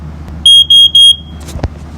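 A smoke alarm gives three loud, shrill high-pitched beeps in quick succession, followed by a couple of soft clicks and handling noises.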